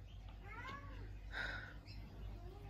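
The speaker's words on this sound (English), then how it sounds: "This cat's doing my head in with all her meowing." A female cat in heat meows repeatedly indoors, several drawn-out, rising and falling cries close by over a steady low hum.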